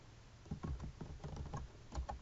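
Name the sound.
typing on a computer keyboard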